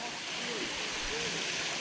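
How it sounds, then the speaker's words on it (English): A waterfall on an outdoor fishing outing in Maryland, low water level, heard as a steady broadband rush of falling water, continuous and fairly close. "Approaching the second waterfall."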